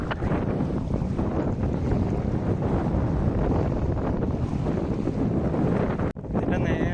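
Strong wind on a riverbank with a boat moored nearby roars and buffets the microphone in a dense, constant rush that drops out for an instant near the end.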